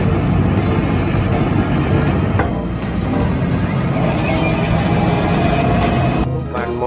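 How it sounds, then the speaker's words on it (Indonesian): A heavy truck hauling an excavator rumbles past on an outdoor road, a loud, steady broadband engine and tyre roar that fills the whole stretch before easing slightly near the end. "ini mobil truk membawa beko"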